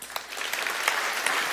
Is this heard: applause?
yes